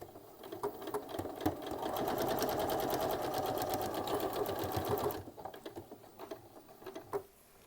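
A sewing machine stitches fabric scraps for crazy patchwork, starting with a few short stitches, then running in one fast, steady rattling burst of several seconds before slowing to scattered single stitches, close and fairly quiet.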